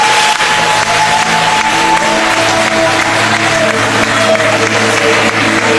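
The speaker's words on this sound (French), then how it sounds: "Des applaudissements très nourris pour Diaoufoué." A large crowd at an outdoor political rally applauds vigorously, dense sustained clapping with some cheering, loud and continuous, alongside a faint tonal hum.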